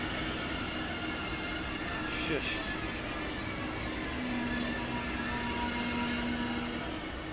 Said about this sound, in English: that ice train is being very loud.